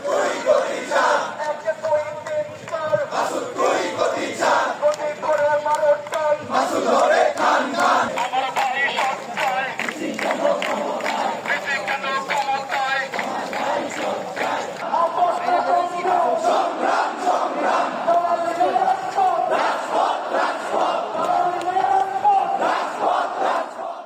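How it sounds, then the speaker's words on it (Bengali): Students at KUET march in a shroud procession, chanting slogans in unison against the vice-chancellor. A loud, dense crowd keeps up a rhythmic, continuous chant close by, with voices rising and falling. "এ সময় শিক্ষার্থীরা ভিসির বিরুদ্ধে বিভিন্ন ধরনের স্লোগান দেয়।"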